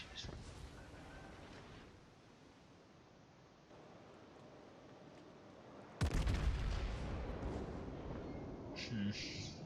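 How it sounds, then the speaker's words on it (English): Naval gunfire from a battleship, the Arkansas Beta, in the World of Warships video game: a loud, sudden cannon blast bursts out midway over a steady rumbling wash of sea and engine noise that carries on afterwards. "the shots just aren't penetrating the citadel armor"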